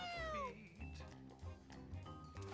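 A kitten in a cat-breeding video game meows in a high, gliding call over steady game music, with a few shorter meows following.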